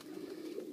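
A young pigeon coos softly in a loft in Puna, Hawaii, one low, brief, close murmuring call.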